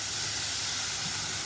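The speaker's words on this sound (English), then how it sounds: "we're gonna put some hot boiling water" Hot boiling water poured into a pan of frying onion sends up a loud, steady steam hiss and sizzle, a dense broadband rush that holds evenly throughout with no talking.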